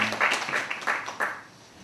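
A church congregation applauds to bless two missionaries serving in Indonesia, giving a short, fairly quiet patter of hand claps in a few uneven bursts that fade out after about a second and a half.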